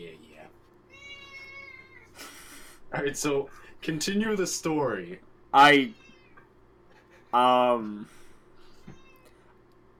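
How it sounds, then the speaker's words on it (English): A cat meows repeatedly indoors during a tabletop D&D session, several distinct drawn-out meows spaced between stretches of people talking, close and clear. "I can't concentrate with the cat."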